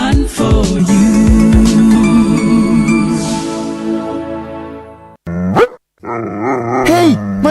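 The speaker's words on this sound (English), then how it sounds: "this dog won't stop barking at us" A dog barking and growling close by among loud music and other sounds, with harsh, rough bursts near the end.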